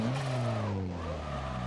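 A virtual car drifts in the racing game Assetto Corsa, its engine holding a steady high whine while the pitch dips and recovers through the slide, with a faint tire squeal beneath.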